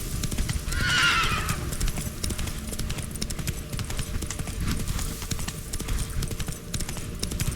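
Roach, the horse in The Witcher 3, lets out a loud whinny early on while rapid galloping hoofbeats pound on steadily throughout.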